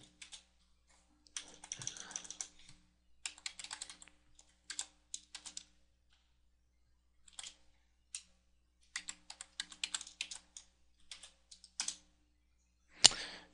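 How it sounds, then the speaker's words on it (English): Someone types an install.packages command for R on a computer keyboard under Windows, with quiet, close bursts of rapid keystrokes separated by short pauses and no talking. "what you want to do is type install dot packages"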